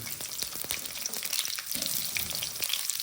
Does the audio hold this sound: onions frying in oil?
yes